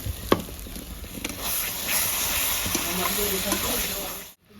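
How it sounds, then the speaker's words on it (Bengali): Water poured into a hot pan during home cooking in a Bengali kitchen, giving a steady broadband hiss and sizzle that holds for several seconds before cutting off abruptly. "এবার একটু জল দিয়ে দেবো এখানে, যাতে না লেগে যায়।"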